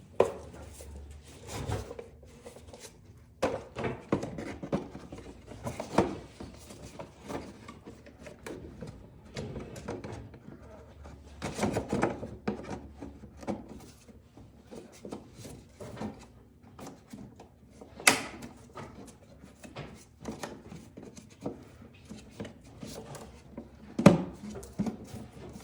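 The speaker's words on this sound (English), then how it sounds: "Filter housing back, we need to put these 3 clips into the 3 slots that are there." Plastic clips on a 2005-2011 Audi A6 C6 engine air filter housing are pushed into their slots, giving scattered close knocks, taps and snaps over a quiet background.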